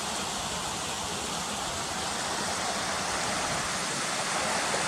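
At Cotter Force, water pours over the falls and along the stream under a wooden footbridge in an unbroken rushing hiss, even and close throughout, with nobody speaking.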